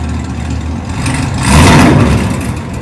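Chevrolet Camaro ZL1/SS with an aftermarket exhaust revs once, a deep rumbling idle swelling into a louder, rising roar mid-clip before easing back down, close and loud.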